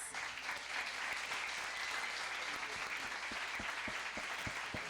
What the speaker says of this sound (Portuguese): Aplauda o Senhor Jesus pela vida deles.